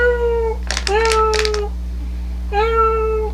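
A cat meows three times close up, in long, drawn-out, tonal cries separated by brief gaps. A low steady hum runs under them, and short clicking bursts fall between the first two calls.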